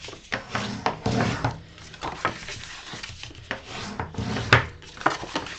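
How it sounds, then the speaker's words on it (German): Cardstock is creased along all sides for a box, giving close scraping, rubbing strokes in an irregular rhythm with soft taps, heard alone. "Und dann falze ich hier einmal alle Seiten nach."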